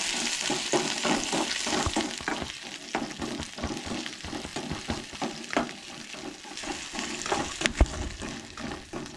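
Green chillies, ginger and garlic sizzle in a pan for a Goan egg curry, a near, steady frying hiss broken by irregular stirring scrapes and clinks.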